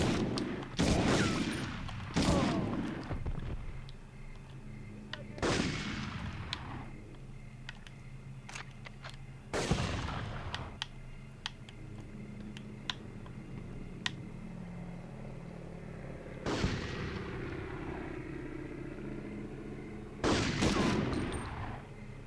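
M1 Garand rifle gunfire in the PS1 game Medal of Honor, with loud, sharp single shots spaced irregularly, some with ringing tails, over an ambient game background and faint scattered pops.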